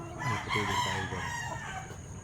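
A Kelso stag rooster crows loudly and close by, one long drawn-out call filling the whole moment with no talk over it.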